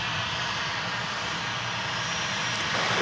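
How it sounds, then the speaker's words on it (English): An American Airlines Boeing 737-800 jet at DFW Airport rumbles loudly and continuously as it passes close by, a broad steady engine roar with no voices over it. "coming at us in the foreground is a 737-800 going to Omaha, flight 2188 American Airlines"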